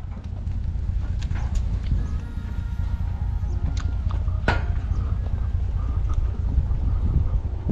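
Horse hooves clip-clopping steadily at a walk on a flooded farm, with a continuous windy rush and an occasional sharper knock.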